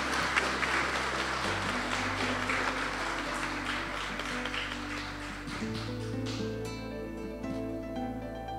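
Applause at a school year-end ceremony, a steady wash of clapping from a crowd running throughout, mixed with sustained tonal music that shifts chords beneath it.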